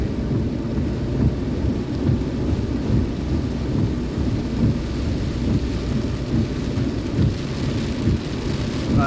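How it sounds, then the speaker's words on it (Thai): Heavy rain pours down during a thunderstorm over rice fields, a dense, continuous roar with low rumbling thunder underneath and no wind or voices. "ฝนตกนะครับ พายุเข้า"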